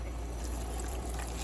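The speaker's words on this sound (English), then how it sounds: "I'm going to start with hot water." Hot water runs steadily from a tap or kettle, a continuous soft trickling rush with a low rumble beneath, close by and unbroken.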